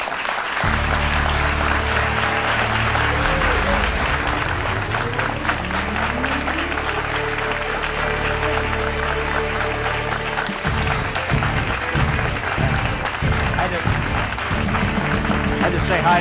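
An audience applauds steadily and warmly for a retired astronaut, a continuous dense clapping throughout with a voice faintly under it.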